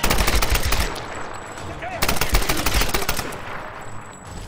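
Rapid automatic gunfire in the Tomb Raider video game, two dense bursts of shots about two seconds apart, loud and close, with ringing decay between them.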